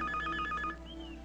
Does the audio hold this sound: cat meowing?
no